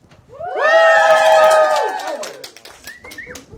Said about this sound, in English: We have a raucous crowd here, out of control because they're female.